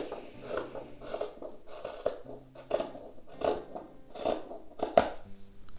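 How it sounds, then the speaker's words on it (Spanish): Scissors snip out paper or fabric craft pieces for a rustic hen decoration, a series of soft, close crisp cuts repeating about twice a second, quiet and with no talk. "ahora lo que vamos a hacer es recortar las piezas con margen de centímetro"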